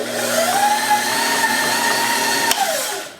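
A stand mixer fitted with a dough hook kneads whole grain sourdough at medium-low speed, its motor whining steadily and close, rising in pitch as it starts and dropping as it slows near the end.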